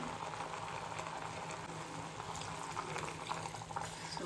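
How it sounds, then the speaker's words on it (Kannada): Water added to mutton in a small pressure cooker, a soft, continuous bubbling and liquid churn heard close up without talk. "ಇವಾಗ ಇದಕ್ಕೆ ನೀರು ಹಾಕ್ಬಿಟ್ಟು ಬೇಯಕ್ಕೆ ಇಟ್ಬಿಡ್ತೀನಿ."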